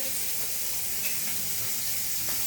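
Deer tapa fries gently in a pan, giving a steady, even sizzle and crackle that stays close and continuous with no talk over it.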